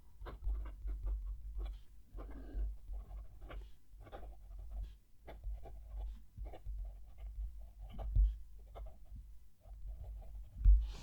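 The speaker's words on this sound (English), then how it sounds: "I'll move the mic down to the page so you can hear the pen writing" A Jinhao 250 fountain pen writing on paper, heard close up as soft, steady scratching strokes with small taps and pauses between words, alone without talk.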